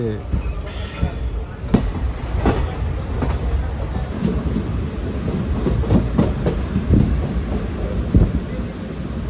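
A passenger train in Kerala, India rumbles steadily along the rails with rhythmic clatter and occasional sharp clanks, loud and continuous throughout.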